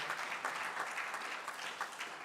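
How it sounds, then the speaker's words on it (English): A crowd claps steadily for the sponsors at the closing ceremony of N.I.E.S 2025. The applause is dense and even from start to finish, with no voices over it. "a round of applause for them as well"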